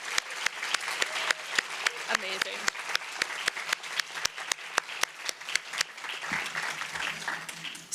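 An audience applauds students and their collaborator Manuel with a strongly rhythmic run of unison claps, even and loud, that loosens into scattered clapping near the end while a voice speaks briefly.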